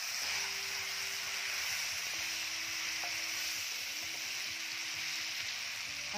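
Tomatoes sizzle steadily as they drop into a pan of frying onions for a chicken hariyali curry, a continuous bright frying hiss with stirring clatter underneath.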